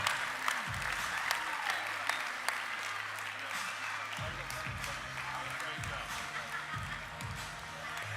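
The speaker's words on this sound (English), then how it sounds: "let's give another applause to our first-time President's Cabinet Achievers" Audience applause fills a large hall at a Washington DC general session honoring first-time President's Cabinet achievers, steady and dense throughout, with a voice speaking over it at a lower level.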